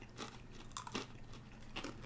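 Someone bites into a Take 5 candy bar with crunchy pretzel pieces, giving a few crisp crunches and chewing sounds up close, quiet and without talking.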